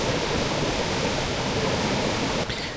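Water pours steadily down the ninth tier of a multi-tiered waterfall, a dense, close, continuous rush that fills the whole clip and shifts slightly near the end.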